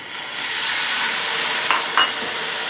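Vermicelli with sugar and half a cup of milk is stirred in a pan for sweet semiya, giving a steady close hiss and simmer with a couple of soft spoon scrapes near the end.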